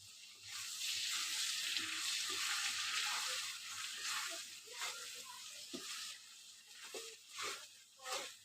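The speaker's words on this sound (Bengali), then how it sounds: "এখানে আমি নুন আর হলুদ দিয়ে আলুটা ভেজে নিচ্ছি।" Potatoes fry with salt and turmeric in oil, a soft, fairly faint sizzle that thins toward the end, where scattered pops and light stirring clinks come through.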